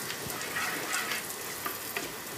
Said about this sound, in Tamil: குக் பண்ணிவிட்டு இந்த மாதிரி தாளித்து எடுத்துக்கிடலாம்.